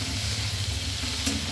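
Large chunks of raw pumpkin fry in a hot pan for a pumpkin and tomato chochchori, giving a steady, close sizzle that holds at an even level throughout with no voices.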